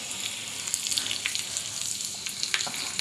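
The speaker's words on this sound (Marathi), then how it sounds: "पॅनमध्ये थोडंसं तेल गरम करून घेतलेलं आहे आणि त्याच्यामध्ये थोडंसं आपण जिरं घालत आहोत" Cumin seeds and vertically sliced garlic sizzle softly in a little hot oil in a pan, a quiet continuous crackle with scattered light pops.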